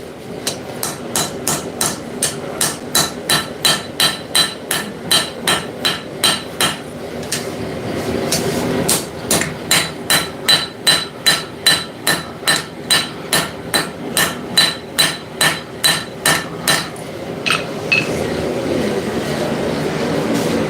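Rapid runs of ball peen hammer blows ringing on hot metal at a forge, loud and close, struck in steady rhythmic bursts of many hits with brief pauses between runs.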